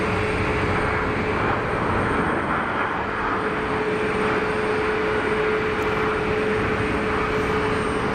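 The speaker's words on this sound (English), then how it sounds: "Love a clamshell reverser." A jet airliner landing at Geneva Airport deploys its clamshell thrust reverser, heard as a steady, loud roar of engines at a distance with a faint constant whine running through it, no voices.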